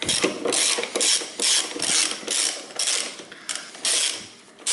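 A ratchet wrench loosening a 10 millimeter nut during a front-wheel-drive handbrake cable replacement, heard as close, repeated clicking strokes in an even rhythm with brief pauses between them.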